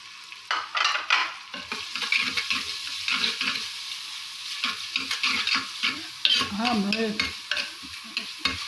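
Green chillies, ginger pieces and cumin fry in a pan for an aloo gobi salan, with a steady sizzle under repeated scraping and clattering strokes of a spoon stirring throughout, fairly close and without talk.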